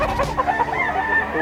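A Lemon cross Boston bullstag gamecock crows once, close and clear, a drawn-out cock-a-doodle-doo lasting over a second.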